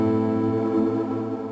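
Arturia Efx Fragments granular synthesis effect on a music track, a sustained harmonic tone with shimmering, slightly fluttering texture, steady and fairly loud, no voices.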